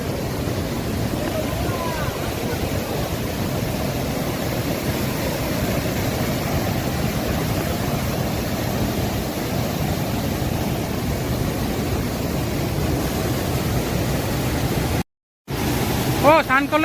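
Hundru Falls waterfall in Jharkhand pours as a loud, dense, steady rush of falling water that fills the whole scene, broken by a brief dropout near the end, while people talk over it.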